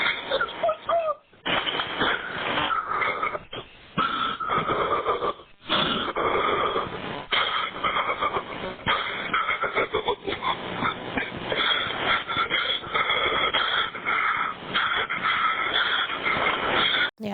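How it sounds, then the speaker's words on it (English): Heavy, intense breathing comes through a 911 emergency call recording, with harsh ragged gasps and wheezes over dense line noise that run almost without a break. "You can hear like the intense breathing."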